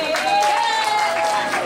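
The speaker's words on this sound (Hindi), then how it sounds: "आपकी भरपूर तालियों में इस्तकबाल कीजिए" Applause from an audience at an Eid party show as a guest is welcomed on stage, continuous clapping with a sustained tonal voice or music line running over it.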